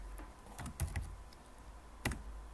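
A few scattered keystrokes tap on a computer keyboard while text is entered for a matching-card game built in LearningApps, faint and close over a low background hum with no talking.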